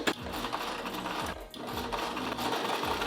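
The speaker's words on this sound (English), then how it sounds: "All right, I just sewed" A sewing machine stitching fabric for scrunchies, close-up whirring mechanical runs in short bursts with a brief pause in between, no talking.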